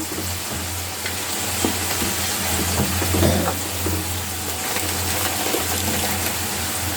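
Onion paste and nut paste fry loudly in a pan, a dense continuous sizzle with a low steady hum beneath and occasional stirring scrapes, close and without voices.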